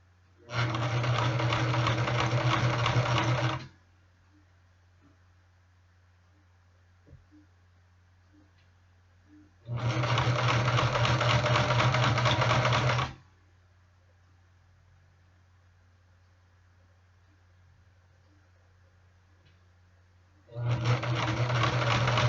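A JCP 0104 heavy duty sewing machine stitches a leather jacket sleeve in three bursts of a few seconds each. It gives a loud, rapid mechanical whir, and the pauses between bursts are quiet apart from a faint steady hum.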